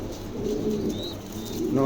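A black pom pigeon coos repeatedly up close, soft throaty calls rising and falling, with faint background chatter.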